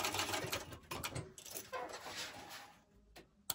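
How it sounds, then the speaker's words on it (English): A sewing machine back stitches the lining of a fabric bucket bag, a quick burst of close, rapid mechanical whirring and needle clatter with short pauses, fairly quiet and with no talk. "And back stitch."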